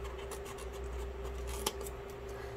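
Scissors cut a corner from paper for a hot cocoa packet pocket craft, a quiet, close, soft snipping with one sharper cut partway through.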